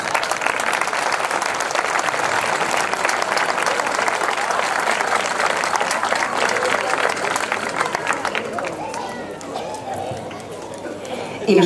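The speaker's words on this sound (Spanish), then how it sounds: "Un fuerte aplauso." Loud, sustained clapping from a crowd at a folk night in Villarrubia de los Ojos, after a performance by a choir and dance group, fading toward the end as voices and crowd murmur rise.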